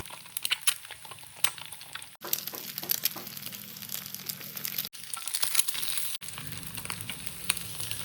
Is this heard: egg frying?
yes